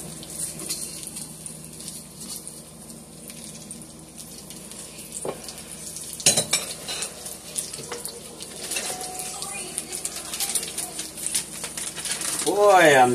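Eggplant slices sizzle and crackle in a frying pan at moderate volume, with clatters as pieces are placed and a voice talking over the cooking.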